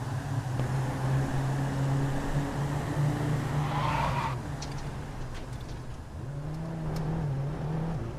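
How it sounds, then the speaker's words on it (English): A VW Jetta Cup race car in a sim racing game at Virginia International Raceway holds a steady engine drone with throttle changes and a brief tire squeal. The sound stays moderately loud and continuous throughout. "Listen to the throttle."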